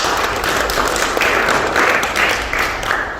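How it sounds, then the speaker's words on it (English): A big round of applause during a soft-skills training talk, with many hands clapping in a steady, fairly loud wash that fills a room for about three seconds. "Give a big round of applause."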